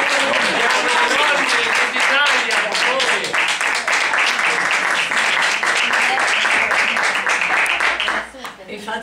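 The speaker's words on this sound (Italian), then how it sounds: "Fate bene a battere le mani, ma non a me, a Dio lassù" Dense, loud applause from an audience at an Italian political election list presentation in Ancona, sustained steadily for several seconds before thinning near the end.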